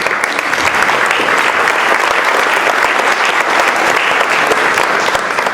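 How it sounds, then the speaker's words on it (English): An audience at a community luncheon gives a round of applause, dense and even clapping from a full room that holds at a loud, steady level throughout with no talk over it. "give him a round of applause"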